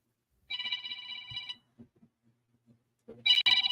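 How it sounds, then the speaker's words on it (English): Mobile phone ringtone playing two bursts of bright electronic melody, nearby and fairly loud, with a gap between them holding faint rustling and handling sounds. "Oh, sorry, my phone."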